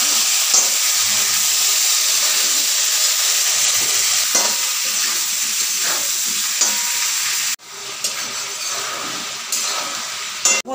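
Broken fish heads frying in a pan give a constant close sizzle with occasional scraping stirs, briefly cut off near the end before the hiss resumes more quietly.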